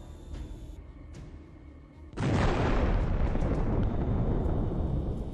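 A Ukrainian drone strike on a Russian tank sets off a sudden loud explosion after a quieter stretch of background noise, followed by a sustained roaring rumble that slowly tails off.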